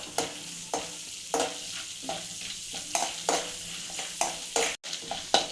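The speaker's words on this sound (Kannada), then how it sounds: "ಈಗ ಒಂದು ಎರಡು ಸ್ಪೂನ್ ಕಡಲೆಬೇಳೆ ಇದ್ದೀನಿ ಇದು ಸ್ವಲ್ಪ ಬ್ರೌನ್ ಆಗಬೇಕು" Chana dal frying in oil until brown for raw-mango chitranna, a soft, steady sizzle punctuated by regular stirring scrapes of a spoon against the pan, close and fairly quiet.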